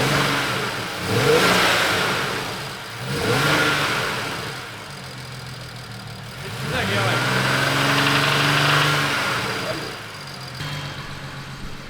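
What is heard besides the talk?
car engine started and running without the drive belt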